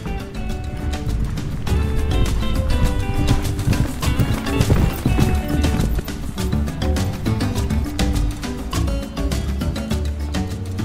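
Horse hooves clip-clop in a steady rhythm during a ride across Easter Island, toward the Tongariki moai, the hoofbeats close and continuous over a dense, busy background.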